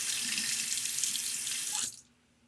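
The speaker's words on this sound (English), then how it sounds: "And there we have a good rinse." A tap runs steadily into a sink while a face is rinsed after shaving, a loud close water rush that stops abruptly near the end.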